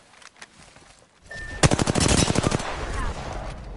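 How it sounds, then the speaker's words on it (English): Automatic gunfire in the video game Apex Legends: a rapid burst of loud, close shots in a quick rhythmic string, followed by a lingering echoing tail, with quieter game sounds before it. "Listen up, I'm getting shot at."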